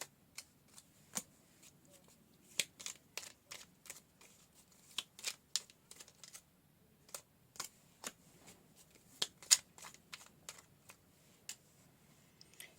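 Tarot cards are shuffled by hand in quick rhythmic bursts of crisp riffling and flicking, close and fairly quiet, with no talking.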